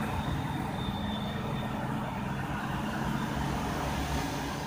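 Heavy traffic on a Jakarta–Cikampek toll road with many big container trucks, a steady close rumble and engine drone of large vehicles running continuously.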